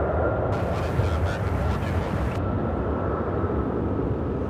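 A plane landing on the runway at Charlotte-Douglas airport gives off a loud, steady engine roar. A brighter rushing hiss rises for about two seconds partway through.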